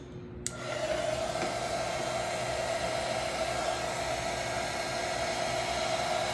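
A heat gun or hair dryer switches on and blows steadily over fresh resin ocean art, a loud continuous airy roar with a faint hum underneath, alone with no talk.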